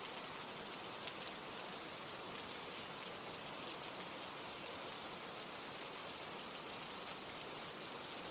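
Dense, steady rain pours without a break, a loud even hiss of many drops that fills the whole stretch and has no talking or other sounds over it.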